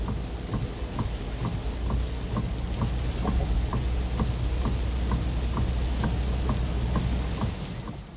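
Heavy rain pours down steadily over Mumbai, a dense, loud, unbroken roar with close drips and taps ticking through it.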